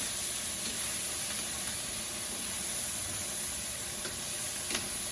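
Steady, close sizzling of stir-fry vegetables in a hot pan, a continuous hissing crackle with a few small pops, no voices.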